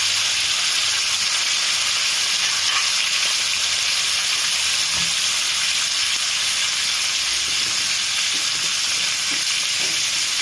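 Turmeric and seven-spice mix fry in hot oil in a pan, giving a continuous bright sizzle and hiss that holds steady and close for several seconds, with faint stirring underneath.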